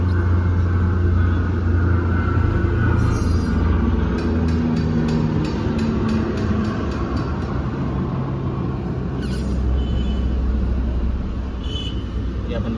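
A manual CNG-converted car idles steadily after starting on petrol, a continuous low engine rumble filling the whole stretch with only slight variation.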